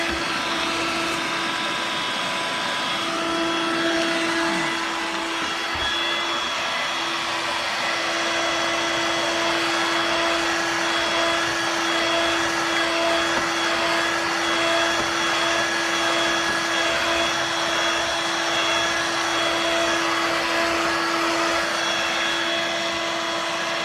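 A Hoover Dirt Devil Vibe corded 3-in-1 stick vacuum cleaner runs steadily and loudly for the whole stretch, a constant motor whine with a strong sustained hum and airy rush, no talking.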